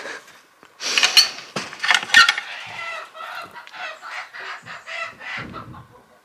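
Chickens in a spring farmyard in Sweden, a cockerel among hens giving loud, close squawks and clucks that break into a flurry of agitated calls, then settle into steady clucking.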